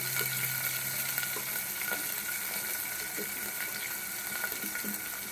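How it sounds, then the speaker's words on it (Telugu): Tomatoes and onions fry in hot oil for a cauliflower tomato curry, a steady bright sizzle broken by small pops and spatters, fairly close. "ఆయిల్ పెట్టుకొని టమాటాలు ఆనియన్స్ వేసేసుకోవాలి."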